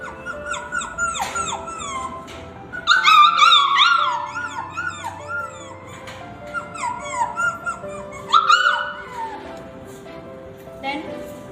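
A girl mimics the whimpering cries of a tied-up puppy, giving high, wavering whines and yelps in repeated bursts, with two louder, more strained cries over about eleven seconds.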